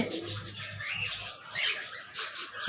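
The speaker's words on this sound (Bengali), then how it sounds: "একজোড়া লুটিনো রেড আই কোকাটেল পাখি রয়েছে" A pair of lutino red-eye cockatiels chirps in a cage, giving bright, repeated tweets and calls in short bursts close by.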